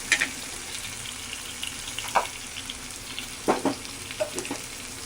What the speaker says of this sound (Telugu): ఇదిగోండి పచ్చిమిర్చి ఆనియన్స్ అయితే వేయిపోయింది